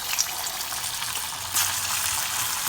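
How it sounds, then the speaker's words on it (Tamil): Marinated colocasia root pieces dropped into hot oil, a steady broad sizzle and bubbling hiss throughout with a brief surge midway, no talking. "எண்ணெய் காஞ்ச உடனே நம்ம மேரினேட் பண்ணி வச்சுருக்கிற இந்த சேப்பங்கிழங்கு அதுக்குள்ளே போட போகிறோம்"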